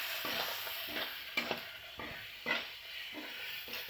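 Ground turmeric, cumin and coriander sauté in a pan, a soft steady sizzle broken by repeated scraping stir strokes, close and fairly quiet with no voices.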